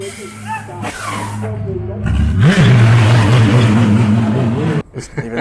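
A race car engine revs hard and then drops through downshifts near the pit exit, a loud rising and falling mechanical note that carries on while a person talks over it.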